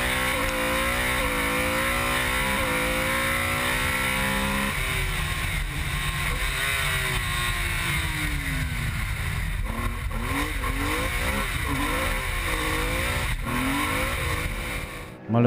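A rear-wheel-drive BMW rally car at the 2014 Belgian Rally Championship Sezoens rally, its engine revving and rising through gears, then swooping up and down in pitch as it drives off, with a voice commenting throughout.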